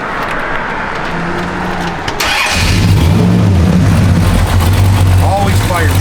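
A 1966 Dodge Charger cranks and fires up, then settles into a loud, close, deep idle with a few revs, under a voice.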